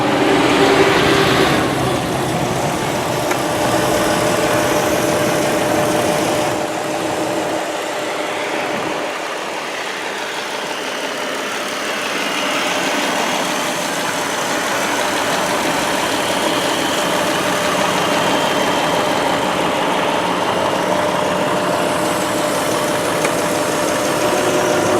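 A 2007 Chrysler Pacifica Touring AWD with a 4.0 liter V6 engine idles steadily under the open hood, a smooth continuous hum and hiss heard up close, even and unbroken, with no talking.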